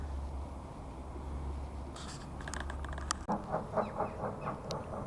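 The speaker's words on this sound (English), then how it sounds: "you just might be able to hear a steam train in the background" A steam train runs somewhere in the distance in the north Lancashire countryside, a faint low rumble and hiss beneath a steady outdoor hum, with a few brief clicks and knocks nearer by.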